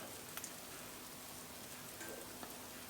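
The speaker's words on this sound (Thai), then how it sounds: "ได้ยินเสียงเดือดอยู่เลยนะครับ" Caramel-coated cornflakes fresh from the oven on a tray give off a soft, continuous bubbling fizz with faint pops.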